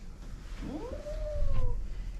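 A female cat lets out a close, drawn-out yowl with a rising then sliding pitch while being groomed in a salon, over low handling and rustling noise.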